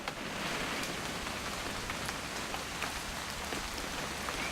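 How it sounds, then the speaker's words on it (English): Rain falls steadily in the video game What Remains of Edith Finch. A soft, even hiss of drops fills the scene, faint and continuous, with scattered light patters and no voices. "It's gonna rain the whole weekend, isn't it?"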